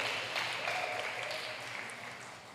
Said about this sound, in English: please give a round of applause for Professor Zehetner